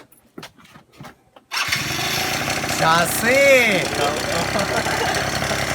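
A Yamaha JOG ZR stunt scooter's small two-stroke engine cranks and catches after a brief shout, then idles and revs loudly and steadily up close for several seconds.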